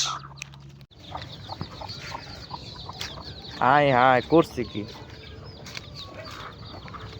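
Farmyard chickens clucking in a short loud burst near the middle, over a busy background of household noise, with a person talking nearby.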